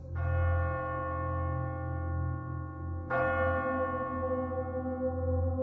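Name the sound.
church bell ringing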